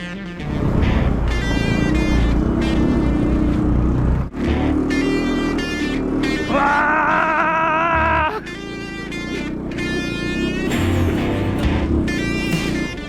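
Small off-road tractor from China driving over rough ground, its engine loud and close, revving and labouring with shifting pitch and brief dips as it keeps momentum.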